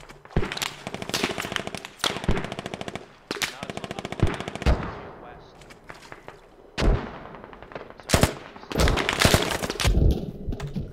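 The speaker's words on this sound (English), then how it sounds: "It's a machine gunner." Bursts of machine gun fire in the video game Squad, with rapid rhythmic volleys and sharp separate gunshots, near and loud, repeating over roughly eleven seconds.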